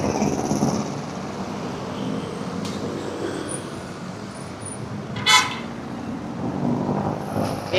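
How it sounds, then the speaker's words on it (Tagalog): Car horns honking in heavy Manila traffic on the Litex road: steady roadway rumble and engine noise, with a few short toots and one sharp, louder honk near the middle, no one speaking. "Beep beep."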